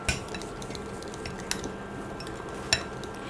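A spoon stirs a warm homemade heel cream of milk cream and turnip, giving soft steady scraping with two sharp metallic clinks against the bowl, quiet and close.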